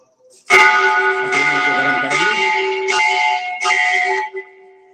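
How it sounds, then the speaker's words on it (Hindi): Temple bells ring at Pitambara in a series of about five loud, resonant strikes, each with a long ringing sustain that overlaps the next, then fade away near the end. "पीताम्बरा के घंटे बज रहे हैं, ये भी तन मन को झंकृत करते हैं।"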